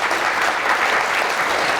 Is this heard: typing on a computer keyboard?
no